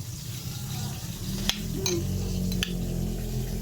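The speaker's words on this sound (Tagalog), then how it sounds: "Kaunting sugar, at kaunting toyo. Yan, mix na natin." A spoon clinks and scrapes as sugar and soy sauce are stirred together into a sauce for fried tilapia, with a few sharp metallic taps over a low, steady background hum.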